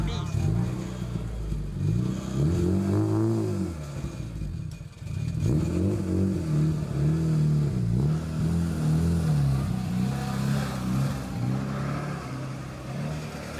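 Nissan GT-R cars drag racing down a strip at a live drag event, engines rising and falling in repeated revving sweeps with loud roaring passes, while a commentator talks over them.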